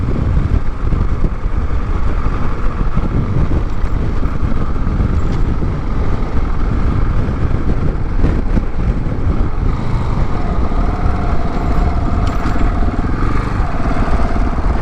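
A KTM 690 ADV single-cylinder motorcycle on the move, with a steady, loud engine drone and wind rush throughout and slight changes in pitch as the rider goes along.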